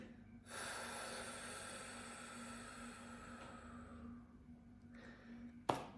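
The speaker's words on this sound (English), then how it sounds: "Inhale, hold 1 second, and exhale with our mouth like this" A long, steady breath pushed out through the mouth during a calming breathing exercise, close and soft, lasting several seconds before tapering off, followed by a brief sharp sound at the end.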